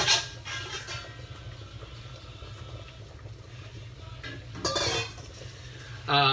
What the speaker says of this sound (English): we're going to whisk canola oil, which is this here